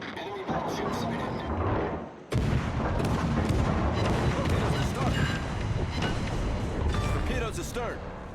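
Battleship main guns shelling an approaching cruiser in a World of Warships naval battle, heavy booming salvos and rumbling blasts layered with game effects, loud and continuous, with a voice talking over the action.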